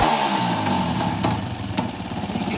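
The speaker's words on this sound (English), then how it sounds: "Give her a little rev, Gilbert." A small gas engine on a Power Wheels Ford ride-on toy truck runs steadily at close range, its buzzing drone rising slightly in pitch with a few sharp clicks over the top.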